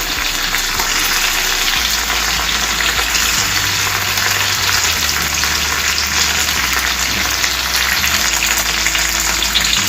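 Chopped ivy gourd pieces frying with curry leaves in a hot pan, a loud, dense, continuous sizzle close up, with a low rumble underneath and no talk.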